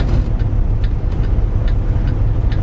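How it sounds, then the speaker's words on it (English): A car passes on an Arkansas backroad near a parked truck, a loud, steady low engine rumble with faint brief hissing bursts, continuous for a few seconds without talk. "you better hurry up, car. There's a car coming."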